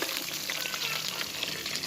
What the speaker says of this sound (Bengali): ডিমটা আমার ভাজা হয়ে গেছে আমি এখন তুলে নেব